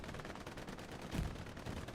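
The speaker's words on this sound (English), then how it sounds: "Explosions galore in the first seconds." Dense, rapid crackle of gunfire and explosions from a Hell Let Loose battle, continuous and moderately loud.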